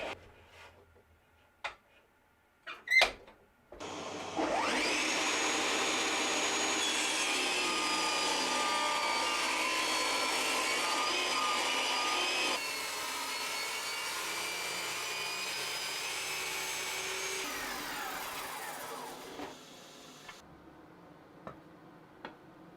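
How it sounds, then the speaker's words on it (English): A table saw rips thin wood strips, a steady whining blade drone running continuously for about fifteen seconds after a few knocks of handling, then spinning down into quiet. "So I'm going to rip some bits down to 2 centimeters and others to 1."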